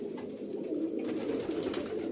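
Pigeons in a lit pigeon house at night keep up low, overlapping murmuring coos, a steady close hum of calls without pauses and with no talking.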